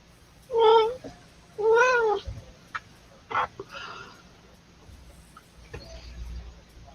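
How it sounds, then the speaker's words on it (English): A vocal cat lets out two loud, drawn-out meows close by, followed by a few short, fainter sounds and quiet room noise. "Boy, that's a vocal cat."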